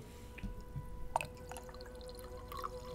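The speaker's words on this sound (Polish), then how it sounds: "Ja naleję sobie wody." Water poured into a glass at close range, heard as a few soft splashy drips and trickles over a steady low background hum.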